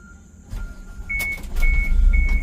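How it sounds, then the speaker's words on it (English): Prevost H3-45 coach bus engine starting, a low rumble building and growing louder, with intermittent high warning beeps sounding over it. "it's safe to start the bus"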